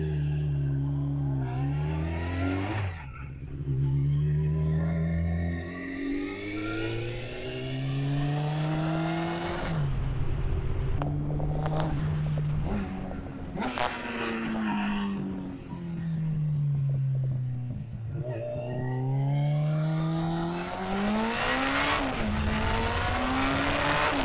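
A motorcycle engine with nearly 100,000 km on it revs up and down repeatedly, its pitch climbing through the gears and falling back in loud, close sweeps, with no voices.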